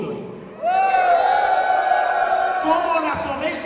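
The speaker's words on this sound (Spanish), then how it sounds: "Alguien que dé un grito de júbilo ahí." A church congregation shouts for joy in one sustained, loud swell of voices, with a single long, held yell rising above the rest of the crowd.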